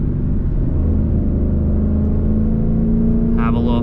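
Ford Mustang engine droning steadily at low revs while downshifting through paddle-shifted gears, a constant close rumble with a brief higher whine near the end.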